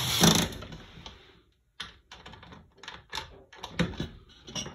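Screws are turned in by hand with a Phillips PH2 screwdriver, giving a run of short clicking and scraping ticks in irregular bursts after a brief pause, close up and fairly faint, with no voices.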